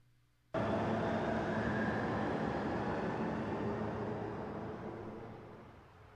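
A subway train rumbles loudly after starting abruptly, a steady broadband roar with rail noise that slowly fades over several seconds, with no voices.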